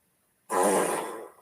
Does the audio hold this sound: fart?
yes